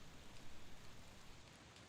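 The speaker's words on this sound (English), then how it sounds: "Got rain outside the window, it's so atmospheric." Steady rain falls outside a window in a community-made castle level in Game Builder Garage, a soft, even hiss of drops that holds at a constant, fairly quiet level with no voices over it.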